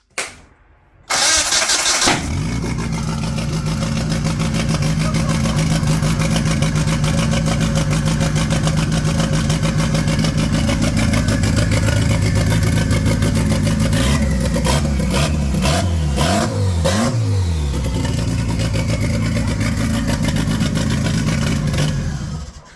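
A Citroën C15 fitted with a 350 hp turbo engine cranks briefly, catches and roars to life, then holds a loud, rough, steady idle before a burst of sharp revs near the end, close up and with no speech.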